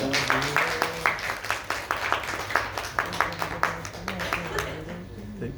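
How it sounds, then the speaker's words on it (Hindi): Applause welcoming the committee at the opening of a Hindi stage play event, rhythmic clapping in near-unison beats repeating steadily over a murmuring crowd and background voices. "जोरदार तालियों से स्वागत करेगा हमारे कमेटी का।"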